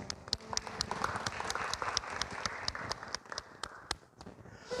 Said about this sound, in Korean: 우리 믿음의 결단의 박수로 주님 앞에 올려드리기 원합니다.